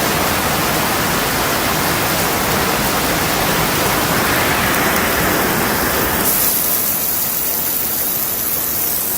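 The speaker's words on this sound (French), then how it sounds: "Il y a une cascade." A waterfall pouring continuously, a dense loud hiss of rushing water filling the whole clip without pause, heard close up with no voices.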